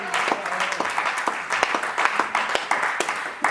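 Church congregation at a French-speaking worship service applauding, a dense, steady patter of many hands clapping at close range for a few seconds, with voices mixed in beneath.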